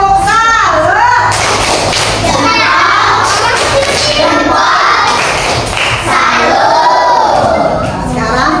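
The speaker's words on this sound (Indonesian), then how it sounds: "Semuanya kita kasih tepuk salut" A group of children or students in an Indonesian classroom doing a rhythmic clapping cheer, loud and close, with shouted voices and thumping claps mixed over the whole stretch.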